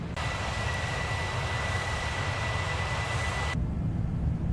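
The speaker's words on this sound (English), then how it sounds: "I don't know why, but this sound, it feels like the airplane is extremely powerful and going very, very fast" Boeing 767-300 jet engines in the X-Plane 12 flight simulator during climb after takeoff, a loud steady roar with a sustained high whine, continuous and unbroken until the high end drops out near the end.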